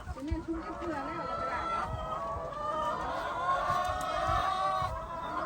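Chickens cluck and a rooster crows at a country garden home while a hen with a sore eye is treated, several birds calling close by over a soft background with murmured talk.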